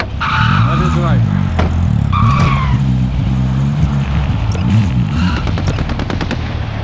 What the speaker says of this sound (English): There is a vehicle here.